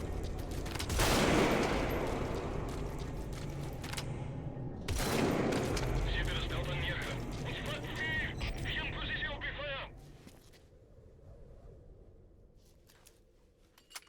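Rifle gunfire in an online shooter video game, loud bursts of shots with echoing tails around the start and again near five seconds, followed by lighter game sounds and a quieter ambient stretch.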